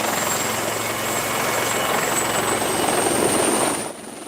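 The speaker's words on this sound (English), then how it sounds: "We join a Wildcat helicopter from 815 Naval Air Squadron, helping to gather intelligence." Royal Navy Wildcat helicopter of 815 Naval Air Squadron in flight, a steady loud rotor and turbine drone with a rhythmic blade chop, fading slightly at the very end.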